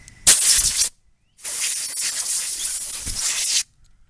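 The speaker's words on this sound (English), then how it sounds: "Just spraying it, blowing it off" Two hissing aerosol bursts of cleaner spray onto carburetor mount threads, a short blast followed after a pause by a longer sustained one, close and loud.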